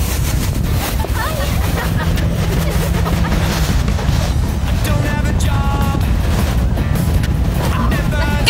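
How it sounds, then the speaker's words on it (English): A strong gale roaring across the beach at Mooloolaba, a loud, steady rush of wind buffeting the microphone throughout, with faint voices and surf buried beneath it. "it's blowing an absolute gale today."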